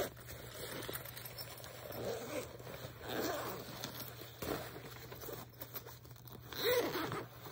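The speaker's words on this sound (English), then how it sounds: "You can unzip it." Soft pulls of a bag's zipper rasp in short bursts, close by and fairly quiet, mixed with light rustling of fabric.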